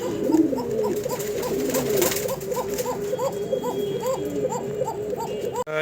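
Pigeons coo in a steady repeating rhythm close by, with a soft rustling background throughout.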